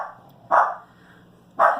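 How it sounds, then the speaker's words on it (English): A pet dog indoors at home barks twice, each a short, loud, nearby bark separated by about a second of quiet room hum. "My dog's barking."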